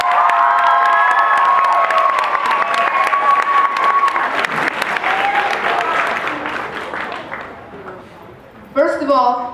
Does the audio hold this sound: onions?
no